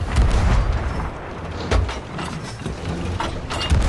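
Ship cannons firing at sea in Sea of Thieves, several heavy booms and thuds spaced irregularly over a few seconds, close and loud over rumbling background noise.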